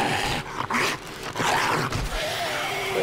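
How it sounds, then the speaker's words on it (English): A dog in the 7 Days To Die game growls and whimpers, rough snarling bursts broken by short gaps, fairly close and loud. "I think I see potential dog coming up over here."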